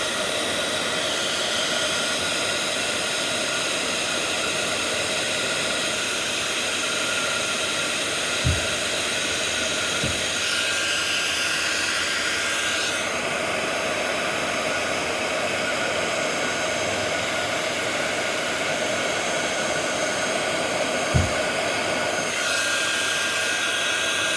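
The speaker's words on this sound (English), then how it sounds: "we're just going to go in and heat all of those, and as we heat them they change from a powder to a solid" A handheld heat tool blows a constant, loud whooshing stream of hot air to melt embossing powder during card crafting, holding steady for the whole stretch with a few faint clicks and no talk.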